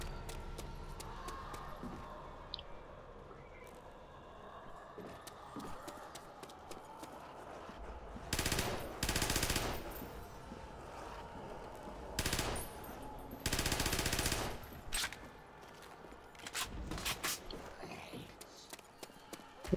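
A mini Uzi firing in World at War's Nacht Der Untoten zombie mode, with several loud bursts of rapid automatic fire separated by quieter stretches and occasional speech.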